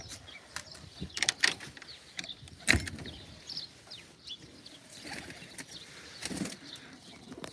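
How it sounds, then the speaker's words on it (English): Farm pigeons near the chicken coops take off with several brief bursts of wing flapping, sharp clattering flurries spaced across the stretch amid quiet outdoor ambience and faint bird calls. "give our pigeons an opportunity to fly today"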